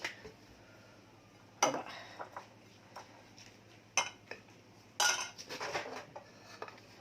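Spoon scraping and clinking against a bowl while stirring a potato salad dressed with vinegar and salt, a few quiet knocks followed by a busier burst of stirring toward the end.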